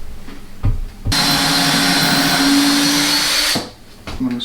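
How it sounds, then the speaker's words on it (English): A power drill bores a pilot hole during a kitchen cabinet installation in a pantry, whirring loudly and steadily for about two and a half seconds after a brief trigger tap, with no talk. "What I'm going to do is drill a pilot hole carefully."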